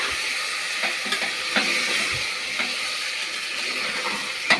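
Ginger, garlic and green chilli paste frying in a pan: a steady, soft sizzling hiss with a few faint clicks and pops scattered through it, and no talking.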